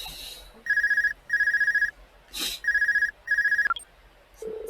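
A telephone rings in the video game Trails of Cold Steel, four bursts of rapid electronic trilling, each about half a second, spaced by short pauses, with a few soft game effects between and after them.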